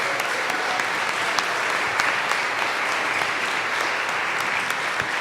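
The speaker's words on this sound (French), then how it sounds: "une bonne main d'applaudissements" An audience gives a warm round of applause to the orchestra after a performance, with dense, even clapping and scattered sharper claps filling the whole passage at a steady volume.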